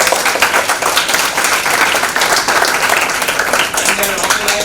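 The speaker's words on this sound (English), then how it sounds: "So let us all join in applauding Sushmita ma'am and Kushal sir." Audience at an Earth Day talk session applauding together, a dense, loud burst of steady clapping that continues throughout.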